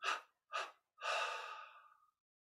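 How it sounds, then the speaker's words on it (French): A person breathes out deeply in three parts during a meditation session: two short exhalations, then a longer, fading third, all close and soft with silence between. "On expire en 3 fois."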